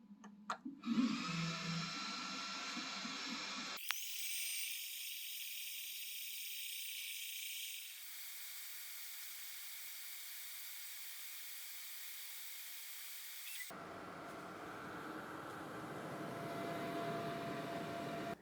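An xTool laser machine engraves a logo into a screen-printing screen with a steady airy hiss and fan-like whoosh, broken by a brief click and a shift in tone midway, with a faint higher hum throughout.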